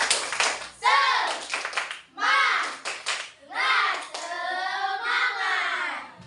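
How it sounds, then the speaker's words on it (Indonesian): Schoolchildren in a fifth-grade classroom at SDN 1 Pesedahan do a rhythmic spirit clap, with bursts of group clapping and loud chanted young voices in short repeated phrases separated by brief pauses. "Tepuk semangat."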